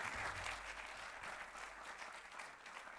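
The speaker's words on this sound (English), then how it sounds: "Let's take one big round of applause to you, Dr." Audience applause at a dental medicine graduation ceremony, a sustained, dense wash of many hands clapping in a large hall, steady throughout with no voices over it.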